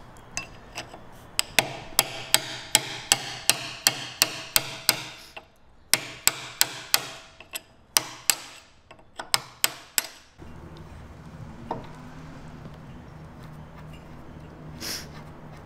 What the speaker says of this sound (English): So we have a hammer and a punch in order to do so.